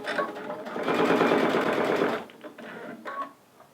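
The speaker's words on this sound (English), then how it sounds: "Now let me test sew again." A sewing machine runs a short burst of stitching through quilt binding, a steady close mechanical whir for about a second and a half before it stops, followed by a few quieter handling clicks.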